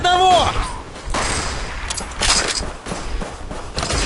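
Sniper rifle shots from the online shooter BTR, several sharp gunshot bursts spread through a few seconds of game action, fairly loud and close, with a brief tonal chirp at the start.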